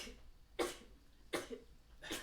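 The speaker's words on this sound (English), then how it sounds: "That was a series of sneezes" Three short, sharp sneezes in a row, evenly spaced and fairly quiet, with faint background hiss between them.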